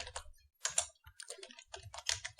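Typing on a computer keyboard to enter a command: quick bursts of close, crisp key clicks with brief pauses between clusters, no voice.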